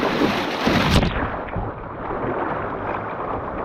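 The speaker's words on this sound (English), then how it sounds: "Little splash action." Water splashes from a kayak moving along a shallow river, one sharp burst of spray followed by a steady broadband wash of moving water and wind close to the microphone.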